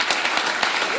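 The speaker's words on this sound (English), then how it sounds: "Let's give her a big round of applause." An audience at a mayor's town hall meeting applauds for the Mayor Pro Tem, a steady wash of clapping that holds for about a second at moderate loudness.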